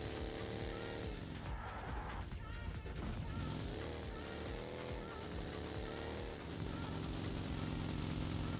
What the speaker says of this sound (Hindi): पीछे से गाड़ी का साउंड आ गया